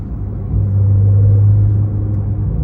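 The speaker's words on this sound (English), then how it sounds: "You can hear a little bit of the turbo kind of spooling up a little bit too before the revs come up." A 2018 Porsche Carrera T engine rumbles low and close, swelling briefly as the turbo spools before the revs climb, then easing back to a steady drone.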